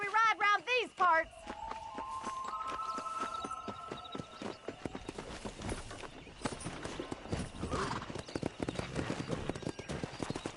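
Horse hooves clip-clop at a steady gallop across open ground in Red Dead Redemption, a dense quick rhythm that starts after a whinny and some music, with someone talking over the riding.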